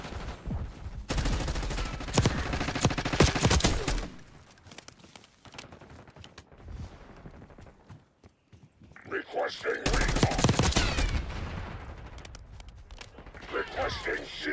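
Automatic and single gunshots in Call of Duty: Black Ops 6 multiplayer on the Derelict map, loud bursts of fire that break off and resume after a quieter gap, with game radio voices heard at times.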